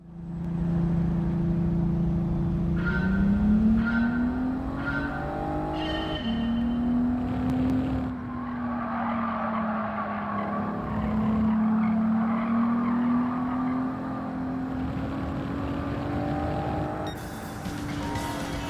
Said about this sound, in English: For test B5, we are in the A112 Abarth going through Tsukuba